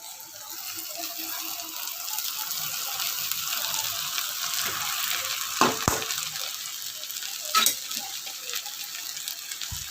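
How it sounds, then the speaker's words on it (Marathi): Poha seasoned with salt and turmeric is stirred in a pan, giving a steady soft sizzle and scraping texture with a couple of sharper clinks near the end, with no talking. "तर आता आपण मिक्स करून घेऊया छानपैकी"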